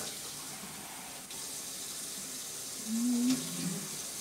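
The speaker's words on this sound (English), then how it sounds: "Tossing a little bit of water in there." A steady stream of water runs and splashes into a pot of homemade barbecue sauce, fairly close, with no talking.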